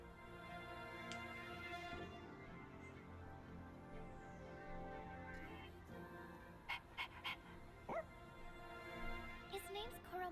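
Koromaru, a dog in the video game Persona 3 Reload, panting and giving short yips and whimpers over game music, with a few sharp barks clustering near the end.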